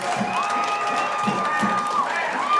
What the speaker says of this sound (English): This Athenian crowd is electric.